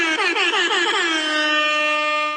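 A loud, blaring air horn, sounded in quick stuttering pulses and then held as one long steady blast.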